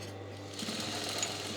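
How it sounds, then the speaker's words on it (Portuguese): Domestic sewing machine stitching a straight seam on a folded dish towel, a steady fast mechanical whir with rapid needle chatter, fairly quiet and close, with no talking. "E vou começar aqui uma costura reta."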